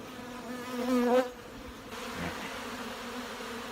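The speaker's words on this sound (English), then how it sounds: "there's a lot of bees and there's a lot of honey" A dense, steady buzzing of many honey bees close by at an open hive, swelling briefly louder then settling into a continuous hum.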